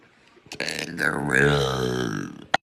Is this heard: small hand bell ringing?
no